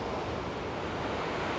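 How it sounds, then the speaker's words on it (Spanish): Sea waves washing onto the shore at Playa Flamingo, a cliff-lined beach in Costa Rica, a steady broadband surf roar heard alone with some wind noise. "Por acá tenemos el mar."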